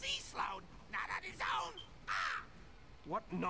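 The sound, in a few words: crows cawing in video game Elder Scrolls Online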